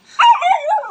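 A single dog gives a short, close, loud bark that tails off into a yelp-like whine, heard alone around a house.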